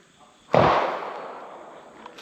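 A single loud gunshot cracks at an outdoor shooting range with steel and cardboard targets, followed by a long fading echo and faint distant reports, with no talking.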